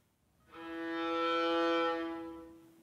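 A single long bowed note on a violin's lowest string, retuned far below its usual pitch, rises and fades smoothly over about two seconds, close and unaccompanied.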